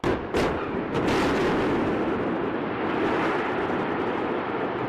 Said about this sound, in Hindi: पावर प्लांट की 175 मीटर ऊंचाई वाली 2 आसमान छूती चिमनियों के टावर और एक बॉयलर में विस्फोटक लगाकर धमाका किया गया